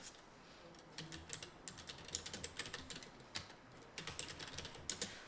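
Quick, close typing on a computer keyboard while composing a Facebook post, soft irregular key clicks in short bursts over a low background hiss.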